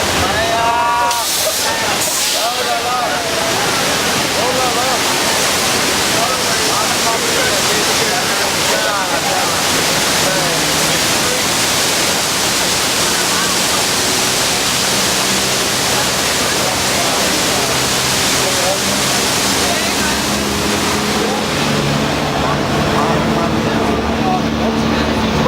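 Torrents of water flood toward a Universal Studios tram ride in a staged earthquake disaster scene, a loud continuous rushing and sloshing roar that fills the whole stretch, with muffled voices underneath.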